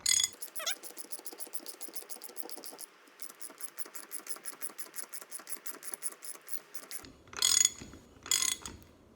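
A hand ratchet tightens a nut on the hydraulic tilt cylinder of a Bobcat S185 skid-steer loader. It gives rapid, evenly spaced clicking strokes in several long runs, then two short bursts, fairly faint and close.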